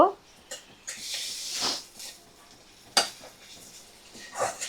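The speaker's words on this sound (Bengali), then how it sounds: "ভালো করে এবারে নাড়াচাড়া করে মশলা চিকেন ভালো করে আমি কষিয়ে নেব" Chicken pieces tossed with masala in a pan for chicken chotpota, with scraping stirs, clinks of utensil on the pan and soft intermittent sizzling, close and moderately loud in irregular bursts.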